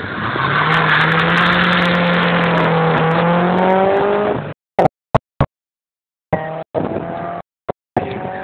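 A turbocharged Fiat Coupe Turbo race car engine roars loud and close for several seconds with rising revs and gear changes, then cuts off, followed by short bursts and blips of the engine at a hillclimb-style race.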